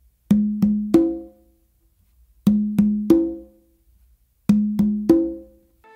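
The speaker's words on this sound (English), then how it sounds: "I start everything the same with the two opens and then the open here on the conga." Conga played in a cha cha cha pattern, with three repeated phrases of two open tones and a further open tone. The strokes ring clearly and alone against silence.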